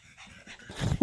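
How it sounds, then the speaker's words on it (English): A pug pants and snorts heavily for a moment, close by, ending in a quick wheezy huff. "Sorry if you hear my dog in the background breathing heavy."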